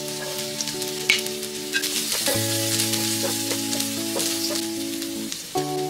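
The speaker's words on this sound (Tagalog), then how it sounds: "Bawasan lang natin konti yung mantika para makapagisa na tayo ng minced onion, minced garlic" Minced onion and garlic sauté in a little oil in a pan, with a continuous close sizzle and occasional stirring scrapes. Steady tonal hums from kitchen appliances run underneath.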